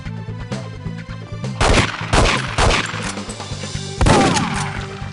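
Shotgun blasts in 007: The World Is Not Enough, several loud booming shots in quick irregular succession over a low droning game background, close and forceful.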